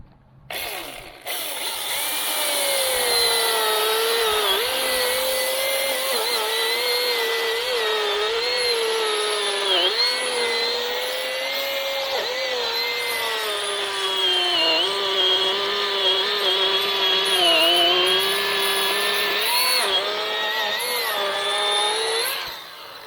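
A battery chainsaw with a freshly sharpened chain cuts through a green log, a loud, steady whine with wavering pitch that holds for about twenty seconds, close up and with no talking.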